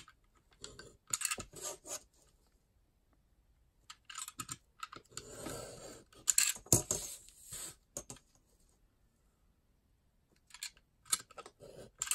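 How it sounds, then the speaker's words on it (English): A Stanley knife cuts paper for mini CD cover sleeves in a craft session, making scratchy rasping strokes in several separate bursts with quiet pauses between them, close up and fairly faint. "use my Stanley knife because that's what I have here"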